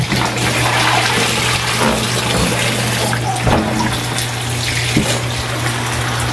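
Running tap water splashes steadily over sweet potato leaves in a sink, a constant rushing flow with small shifts as the greens are moved under it.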